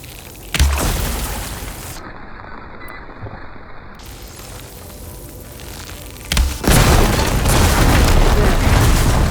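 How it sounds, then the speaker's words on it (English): Blaze barrels burst under fire ammo in Horizon Forbidden West: a sharp boom near the start, a rumbling stretch, then a second loud blast that carries into a sustained roar of fire. "Hitting those blaze barrels with fire ammo should do the trick."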